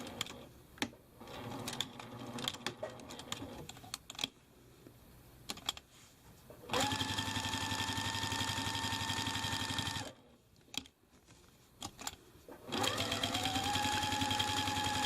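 A sewing machine stitches around the edge of a thread painting postcard, running in steady whirring bursts with brief pauses and soft clicks between runs, close and clear.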